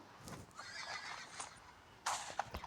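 In a video game, a horse whinnies in a couple of high, shaky bursts over faint hoof clip-clops, heard fairly quietly and with no talking.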